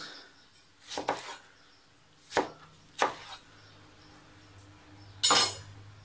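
A knife chops tomatoes into quarters on a board, four sharp, close cuts with knocks and brief clinks, spaced irregularly over quiet background.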